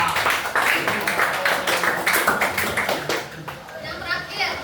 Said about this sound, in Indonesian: Silakan berikan aplaus.